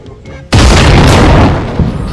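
A single sudden loud bang of a firecracker set off during Diwali, followed by a rumbling, crackling tail that slowly fades.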